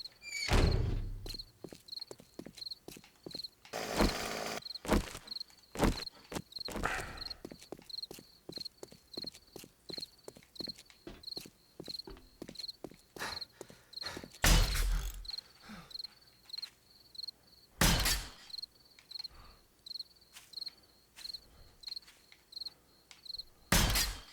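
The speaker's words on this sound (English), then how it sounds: "Those crickets are chirping, trying to let us know it's almost time to stop all this stuff." Crickets chirp steadily at night in the survival video game 7 Days to Die, with a continuous high trill under repeated thudding footstep-like knocks and clacks.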